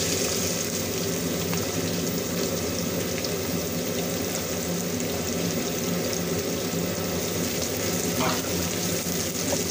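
Onions fry in ghee in a continuous, close sizzle that stays steady and dense throughout, with faint scraping of stirring mixed in.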